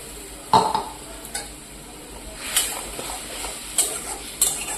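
Poppy seed paste mixed with amchur and turmeric, stirred in a pan: a soft steady sizzle under intermittent clinks and scrapes of a metal spoon against the pan, with no one talking.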